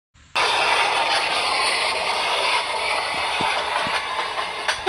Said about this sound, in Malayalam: ആ ട്രെയിനിന്റെ സൗണ്ട് കാരണം ഭയങ്കര ശല്യമായല്ലോ